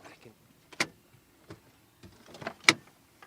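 Rear seats of a luxury SUV folding down in the cargo area, with a few separate thumps and clicks spread over a few seconds, fairly quiet and close, and no voices.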